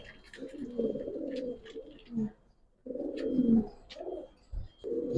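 A large male Giribaz pigeon coos close by in deep, throaty rolling bursts, pausing between them, with faint chirps and background noise.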